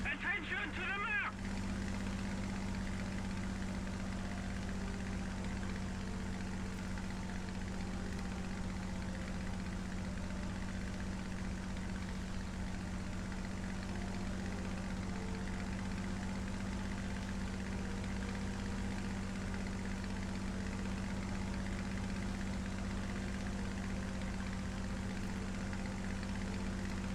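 A vehicle engine runs in the War Thunder video game, a low steady idling drone with a constant hum that holds for the whole stretch after a brief busy opening moment, no talk over it.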